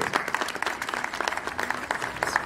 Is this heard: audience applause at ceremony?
yes